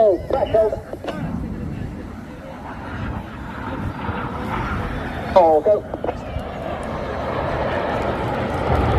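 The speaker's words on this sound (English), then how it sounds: "Each aircraft will now dive down to approximately 100 feet over the sea." Red Arrows jets perform at an air show over the sea at Clacton-on-Sea, Essex, a distant rushing jet roar that swells steadily. Voices speak over it, with a crowd murmur in the background.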